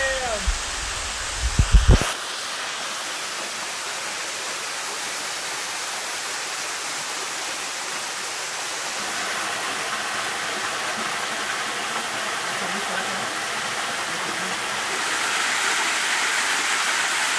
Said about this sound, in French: Donc voilà, deux cascades de 8 mètres en une heure.